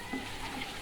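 Spices and salt fry in a pan with a brief, steady close sizzle and crackle.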